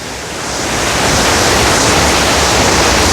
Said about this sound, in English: Water come pouring out on the road.